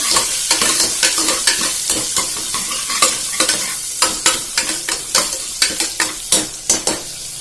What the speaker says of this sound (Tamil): அதுக்கப்புறம் சின்ன வெங்காயம், நல்லா வதக்கி விட்டுக்கோங்க.